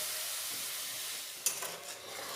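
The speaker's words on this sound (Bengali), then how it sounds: "দিয়ে 2 মিনিট খুব ভালোভাবে নাড়াচাড়া করে নেব, যাতে পেঁয়াজ, আদা, রসুনের কাঁচা গন্ধটা চলে যায়" Onion, ginger and garlic paste frying in a pan, a steady close sizzle with a few brief scraping stirs midway, no voices.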